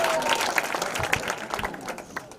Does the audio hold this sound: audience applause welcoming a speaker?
yes